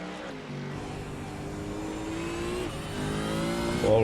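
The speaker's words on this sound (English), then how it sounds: "Ball with John as he accelerates out turn 9" A race car accelerates out of turn 9 at a six-hour endurance race, its engine pitch rising in long sweeps through gear changes, moderately distant with other engines blending in the background.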